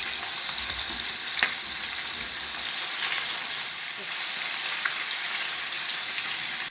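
Cold sour cream added to eggs in hot oil or lard, giving a loud, continuous bright sizzle with a few faint pops and stirring sounds underneath.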